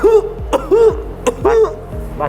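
A voice imitates a mild cough, producing short, light throat-clearing coughs repeated about four times in an even rhythm, close and clear against a quiet indoor background.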